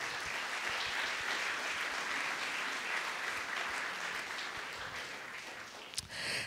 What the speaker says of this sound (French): que l'on peut applaudir, s'il vous plaît.